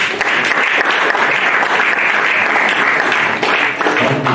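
A church congregation gathered for a 2022 new-year greetings service applauds and cheers in praise, loud continuous clapping with voices mixed in, sustained and close throughout.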